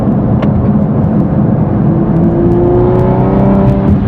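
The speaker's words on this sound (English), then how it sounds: "We're on the freeway now, so can get on it just a little bit and see how it goes." A tuned Toyota A90 Supra pulls hard on the freeway, its loud engine droning and climbing steadily in pitch under constant road and wind roar, heard from inside the car with no talk.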